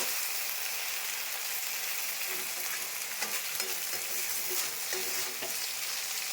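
Small fish fry uncovered in a pan, producing a steady, dense bright sizzle with faint crackles and occasional soft stirring taps, close and continuous with no talking.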